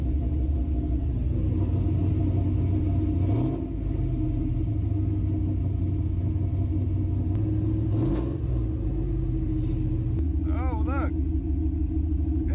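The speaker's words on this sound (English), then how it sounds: "She is idling like a maniac." An LS-swapped OBS truck engine runs continuously with a loud, low rumbling idle, fluctuating slightly in pitch, with a brief whistling sound near the end.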